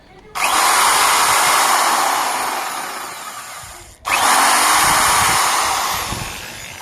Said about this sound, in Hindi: दोनों हाथ से ड्रिल मशीन पकड़ के आप यहाँ पर छेद